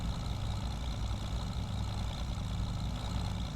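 In a farming video game, a vehicle engine idles on a Montana plains map, giving a constant low rumbling drone that holds steady and fairly loud with no change in pace.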